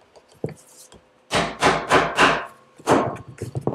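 A 5mm stitching chisel is hammered through leather in a short series of sharp, close mallet strikes, several in quick succession after a few lighter taps.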